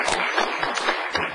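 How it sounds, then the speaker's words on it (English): Audience applause at a city council meeting: a dense, steady wash of many hands clapping together for the full stretch, fairly close and even in level, with no voices over it. "let's clap for that"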